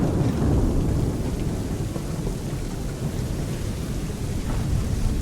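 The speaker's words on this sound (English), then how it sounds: "I'd say it's high time we find some cover from this storm, Captain." A thunderstorm in an Assassin's Creed game: continuous heavy rain and deep rolling thunder rumble, loud and steady throughout, with no voices.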